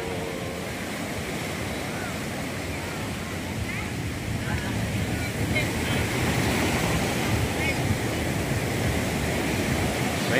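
Steady roar of strong surf breaking on a beach at San Juan, La Union, broad and continuous, mixed with wind noise that grows slightly louder toward the end.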